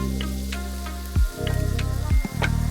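Butter and egg sizzle in a non-stick pan over medium-low heat for a French omelet, a steady close crackle broken by two brief louder bursts of spattering.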